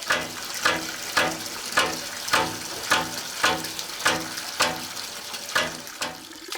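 A hand-operated water pump rattles through a house's pipework, with regular, evenly spaced strokes, about ten of them, each a sharp clanking burst over a wash of running water.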